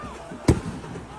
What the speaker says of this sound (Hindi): अचानक से स्टेडियम में जहां पर दर्शक बैठे हुए थे उनके ऊपर ये पटाखे गिरे